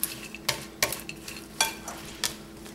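Turkey sausage salad is stirred with added pepper, a series of sharp utensil clinks and scrapes against the bowl at an irregular rhythm over a soft background hiss.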